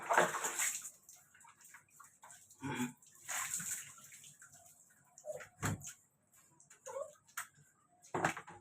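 Water splashes and sloshes intermittently in short bursts while two puppies are bathed, near and fairly quiet, with soft thumps in between and a person talking at times.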